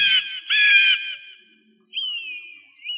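An eagle cries twice with a shrill, ringing call, then gives a thinner high whistling screech. The calls are clear and isolated against silence.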